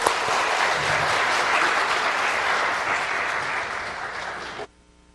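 A church congregation applauds to welcome the pastor at a Sunday service; dense, loud, sustained clapping fills nearly five seconds, then cuts off abruptly into near silence.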